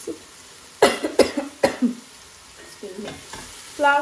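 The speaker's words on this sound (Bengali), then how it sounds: "এই যে বাগার দিচ্ছি খালি বাগারটা আপনার সাথে শেয়ার করবো" Spices crackle and sizzle in hot oil during a baghar tempering, with a few sharp bursts of spattering and stirring, fairly close, no talk.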